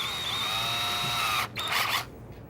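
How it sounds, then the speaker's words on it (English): A power drill boring a pilot hole in wood during joint making, with a steady high whine from the spinning motor that drops off, then a brief burst before it stops. "I'm going to change out my drill bit to my pilot hole size."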